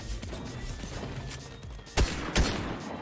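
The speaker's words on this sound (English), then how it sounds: "Oh god, it's an AK." AK assault rifle fire in Fortnite: two sharp, loud gunshots about half a second apart, standing out over a steady low game background.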